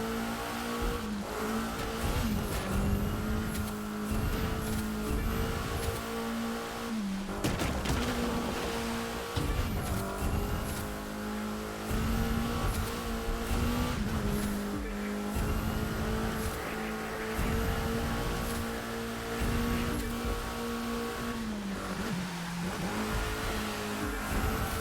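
A car driving hard in The Crew 2, its engine droning steadily with repeated shifts and dips in pitch through corners, tires squealing under it, continuous and prominent with no voices.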